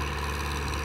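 A new Powertrac Euro 60 tractor engine idles on a farm while being warmed up, a loud, steady, uniform diesel rumble with no change in pace.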